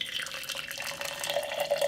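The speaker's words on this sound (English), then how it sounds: "Now let's add some water." Water poured from a kettle onto loose tea leaves in a cup or pot for steeping, a steady close trickling and splashing stream that runs unbroken for about two seconds with no talk over it.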